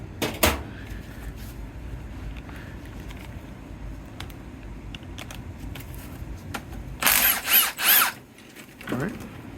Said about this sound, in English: We're going to take off our reverse gear idler hold down bolt, which is a 14.